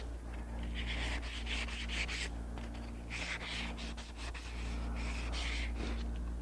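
A scratch bead scrapes along a turned wooden furniture post in repeated short strokes, a dry rasping rub in bursts with brief pauses, close but fairly quiet over a low steady hum.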